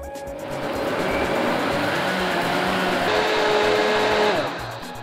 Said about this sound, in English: I'm going to start by blending the egusi, tomatoes, pepper and onions.